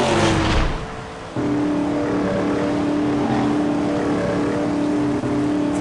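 Race cars revving in a kart race, an engine roar that dips briefly then surges back into a sustained, droning whine with no speech.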